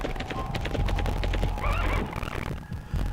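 Horses in the video game The Legend of Dragoon neigh and whinny loudly in quick succession, with clip-clopping hooves and game sounds behind them.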